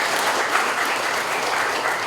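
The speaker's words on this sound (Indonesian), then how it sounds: "tepuk tangan untuk kita semua" Applause from the gathering at the first anniversary celebration of Forum Jaga Lembur in Bandung, a full, steady round of clapping from a crowd, loud and continuous.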